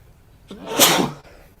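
A single sharp sneeze bursts out close by, quick and loud, then fades into quiet.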